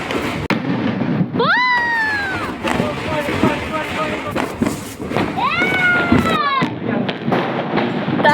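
Diwali garlic firecrackers (poondu pattasu) burst with sharp thuds and crackles, followed by rising whistling squeals, with people talking and exclaiming around the bangs.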